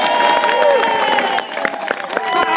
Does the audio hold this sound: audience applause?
yes